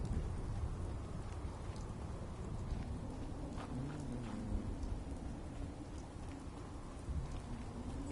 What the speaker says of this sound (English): It's been raining for several days straight in my game.